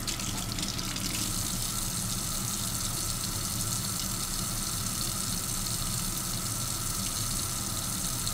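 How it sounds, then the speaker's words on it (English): Tap water runs steadily from a kitchen faucet as it warms up, a constant close hiss and splash filling the whole stretch without pause. "water's warming up"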